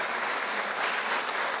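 A church congregation applauding, brief continuous clapping that sounds full and even from a crowd in a large room.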